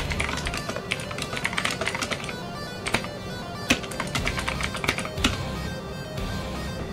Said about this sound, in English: I'm typing that out because someone might miss it.